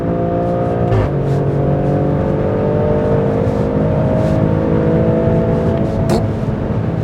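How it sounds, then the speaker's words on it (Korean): Maserati Grecale Trofeo SUV in sport mode under hard acceleration, its engine note rising steadily through a gear change around the one-second mark, loud and close from inside the cabin over road and wind rumble. "엑셀을 그냥 쭉 밟아버리면은"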